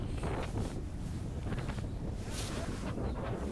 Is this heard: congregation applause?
no